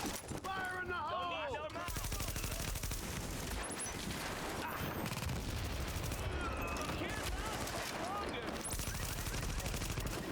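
Rapid MP5 submachine gun fire in the shooter Tom Clancy's The Division, continuous crackling bursts layered with explosions and chaotic combat noise, with chirpy game effects poking through.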